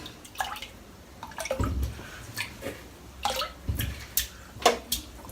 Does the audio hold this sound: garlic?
no